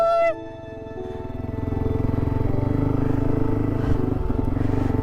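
A motorcycle departing on a long-distance trip, its engine running as a steady, fairly loud drone that builds slightly as the bike pulls away, with no talk over it.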